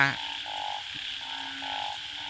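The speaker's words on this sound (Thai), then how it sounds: "มีเสียงอึงนะครับ เสียงอึงเสียงกบเสียงเขียด" Frogs and toads croak at night near rural fields, a close, repeated run of buzzy pulsing calls in short bursts over a quieter background chorus.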